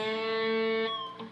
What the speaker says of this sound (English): I'm going to pick the G one time here, and after I've picked it, I'm going to bend that note up a half a step.